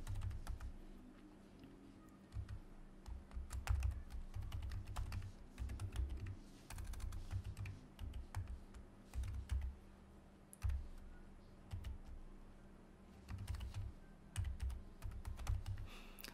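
Typing on a computer keyboard while entering an Instagram address into a blog widget, a steady run of close, quiet key clicks in short bursts with brief pauses.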